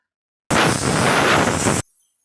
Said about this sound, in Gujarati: છ વિસલ થવા દઈશું